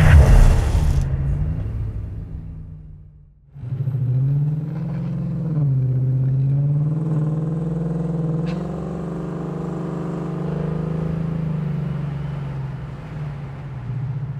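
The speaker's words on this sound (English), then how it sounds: "The car's driving really well, really straight here" A classic Ford Mustang restomod drives along the road. A low, steady engine rumble is heard from inside the car, with a brief dip early on before the drone settles and holds, and no one talks.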